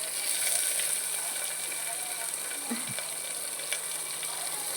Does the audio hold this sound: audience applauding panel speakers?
no